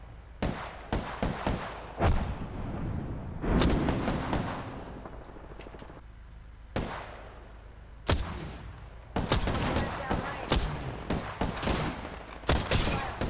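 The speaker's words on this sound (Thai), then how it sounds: "ผมได้ยินเสียงปืน" Gunfire in the battle royale game Apex Legends: sharp bursts of shots and rapid automatic fire come in clusters across the stretch, some loud and close and others more distant, with short gaps between volleys and no voices.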